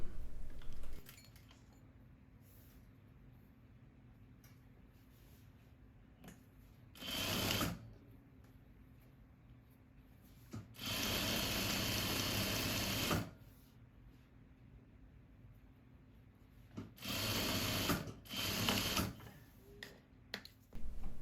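A sewing machine stitches a side seam on a peplum cardigan in several separate runs, each a loud steady whirring burst of a second to a few seconds, with quiet pauses and small handling noises between.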